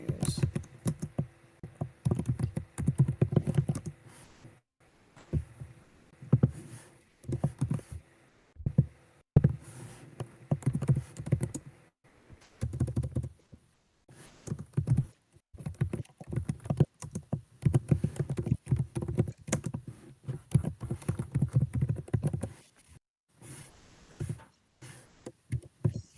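Loud computer keyboard typing, bursts of rapid clattering keystrokes separated by short pauses, close and fairly prominent throughout.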